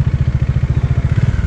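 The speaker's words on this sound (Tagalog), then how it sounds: "Ayun yung motor ni Motoshed" A motorcycle engine runs close by in Baler on a solo Philippine road trip, with a loud, steady low thumping pulse and no talk over it.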